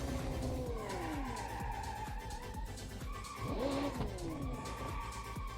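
Rear-wheel-drive car drifting into a 360 spin in BeamNG.Drive, engine revving while tires screech in long sweeping squeals, a second slide following a few seconds later, close and loud.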